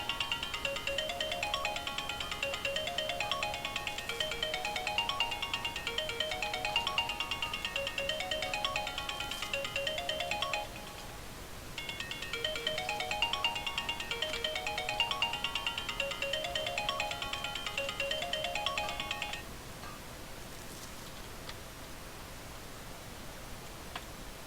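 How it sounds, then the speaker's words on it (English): Mobile phone ringtone chiming in repeated melodic bursts, two long ringing cycles separated by a short gap, steady and fairly loud over a hissy background with no talking. "Sure you heard my phone going off."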